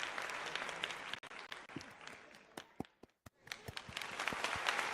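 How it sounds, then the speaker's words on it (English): Recorded applause sound effect played back at low volume, dense clapping that briefly cuts out midway and then resumes, with a few sharp clicks and knocks scattered through. "I'm going to play the applause for myself."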